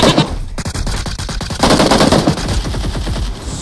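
Rapid automatic gunfire from the mobile battle-royale game PUBG Mobile, loud bursts of repeated shots filling the whole stretch with hardly a pause.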